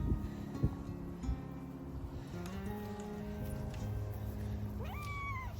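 Cat meowing outdoors in a cold, windy garden during a freeze, a couple of short rising meows near the end over low background rumble and faint tonal noise.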